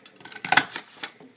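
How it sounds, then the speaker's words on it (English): A Stampin' Up scallop paper punch presses through a piece of construction paper, giving a short cluster of crisp clicks and crunches, close and fairly quiet, with no voices. "And my scallop punch, mine's from Stampin' Up. And I'm just going to cut"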